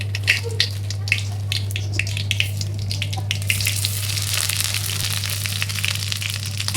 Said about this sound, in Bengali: এটা দিয়ে দিলাম ফার্স্টে, আর যেহেতু সরিষার তেল তাই ফেনা হচ্ছে এরকম